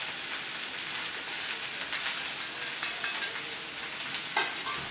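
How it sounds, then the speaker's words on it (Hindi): Okra fries in a pan with turmeric, red chili and salt while being stirred, giving a steady close crackling sizzle with scraping stir sounds and a few sharper pops toward the end. "और इसको हम अच्छे से मिक्स करेंगे।"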